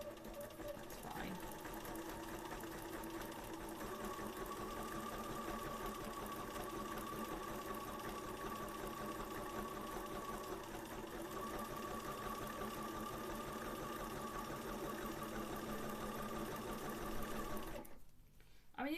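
A sewing machine runs continuously while stitching a Victorian skirt, a steady close mechanical whir and hum that holds evenly for most of the stretch before stopping abruptly near the end.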